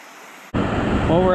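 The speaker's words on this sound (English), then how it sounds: "Got ourselves quite the rapids going here." Steady broadband rushing water from river rapids starts abruptly and continues loud and close, a constant churning roar with no pauses.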